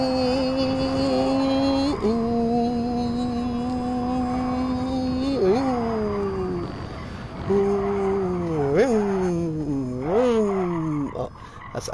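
A voice imitates a two-stroke engine while driving in GT Sport, a buzzing harmonic drone that holds steady, then swoops and revs up and down in pitch several times, loud and close.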